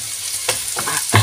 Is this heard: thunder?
no